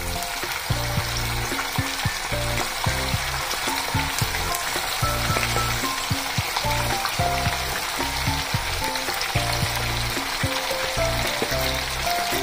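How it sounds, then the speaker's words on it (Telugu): Chicken pieces frying in deep hot oil produce a loud, dense, unbroken sizzle with bubbling crackle and rhythmic popping throughout, close up and with no talking. "నూనె మరిగిన తర్వాత మనము ఈ చికెన్ పీసెస్ ఇందులో వేసుకోవాలి"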